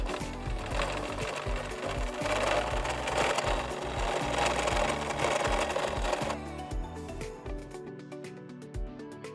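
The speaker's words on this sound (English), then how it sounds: "I can just run a zigzag stitch across the edge here." A sewing machine runs a zigzag stitch along a fabric edge for a cloth mask, a steady rapid mechanical chatter that stays loud and close for about six seconds, then slows and stops with a few faint clicks.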